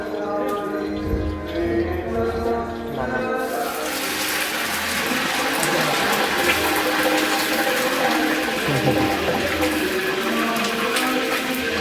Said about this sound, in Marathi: पाणी उडालं काय पायपाचं?